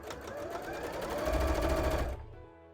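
Sewing machine stitching puffy pumpkin-style cosplay shorts, a steady close mechanical whir with rapid needle rhythm that builds slightly in the middle, then stops abruptly near the end.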